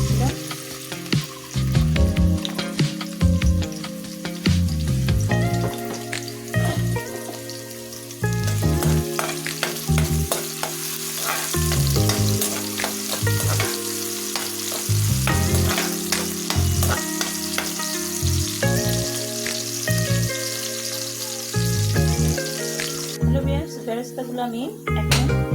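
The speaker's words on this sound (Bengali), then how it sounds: "এই তেলে আমি একটু বেরেস্তা গুলা ভেজে নেব" Chopped onions fry into beresta in white oil, giving a steady sizzle that runs throughout beneath a droning, patterned background layer, with a voice speaking at times.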